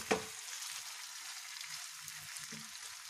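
Stuffed okra stirred through hot oil in a pan, giving a steady soft sizzle with a light knock of the spoon at the start, close and fairly quiet, no talk.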